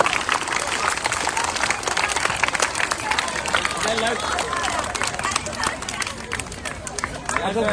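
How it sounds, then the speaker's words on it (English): Loud, continuous clapping from an audience at a carnival closing award ceremony, with crowd babble and voices mixed in throughout. "Keep clapping, guys."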